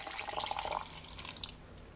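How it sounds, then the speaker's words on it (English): Cold water splashes and trickles steadily into a container for a sorrel drink, a close, continuous pour with dripping detail, fading slightly toward the end. "Then I'm gonna add at least 1 cup of cold water."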